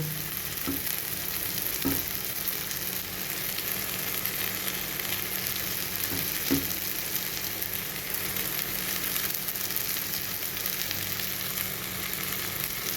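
Ghee sizzles in a pan with banana flower while mochar ghonto cooks, a steady close crackling fry with a few faint clinks.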